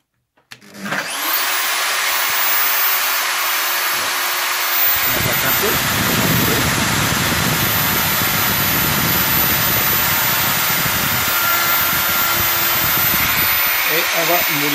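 A homemade wood twisting machine for spiral turning starts up, its motor rising into a steady loud whirring drone that runs continuously, with a rougher low rumble joining partway through, and someone speaking briefly over it.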